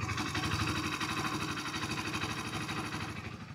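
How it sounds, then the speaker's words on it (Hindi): A 2024 Hero Splendor Xtec 2.0 motorcycle engine idles steadily with a quick, even mechanical chatter and slight vibration, fading a little at the end. "आपको हम इसका इंजन साउंड सुनाते हैं"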